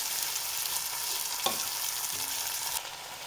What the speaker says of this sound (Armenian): մի լավ տապակում ենք ու ավելացնում ենք ոսպը